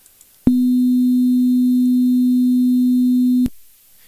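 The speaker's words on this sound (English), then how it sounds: "The sine wave is very smooth." A pure sine wave tone, smooth and steady, sounds alone for about three seconds with an abrupt start and stop, loud and unwavering.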